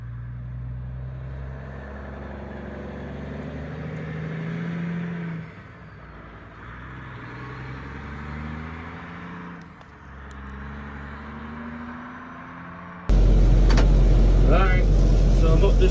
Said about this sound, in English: he puts his blinker on going out the driveway